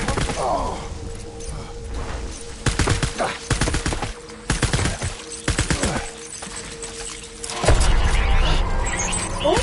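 Incoming gunfire in Death Stranding, with bursts of rapid shots and heavy thuds coming in clusters across a loud battle soundscape, with no speech.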